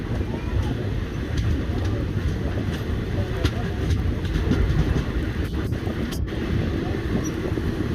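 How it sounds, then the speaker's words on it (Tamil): The Garudadri Express rolls toward Chennai Central, giving a steady close rumble of wheels on track with faint rhythmic clatter and wind noise, a few brief squeaks near the end. "இப்போது சென்னை சென்ட்ரல் நோக்கி மூவ் ஆகிட்டுருக்குங்க நம்ம ட்ரெயின்."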